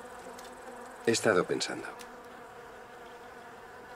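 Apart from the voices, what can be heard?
bees buzzing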